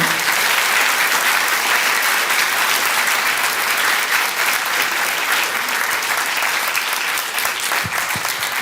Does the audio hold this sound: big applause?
yes